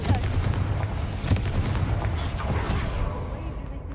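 Confringo blasting spell bursts in the video game Hogwarts Legacy, a cluster of booming, crackling blasts with low rumble, loud and close, ringing on for several seconds.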